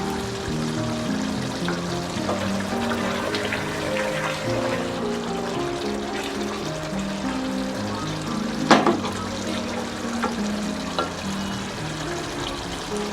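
Chicken korma with yogurt frying in a pan, giving a steady soft sizzle and bubbling throughout, with a louder sharp crackle near the middle and a tonal background hum underneath.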